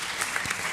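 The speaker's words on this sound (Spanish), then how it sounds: "un aplauso para David Acera" A roomful of people bursts into brief, dense applause at a children's book presentation during a literary festival, a short wash of clapping with no speech over it.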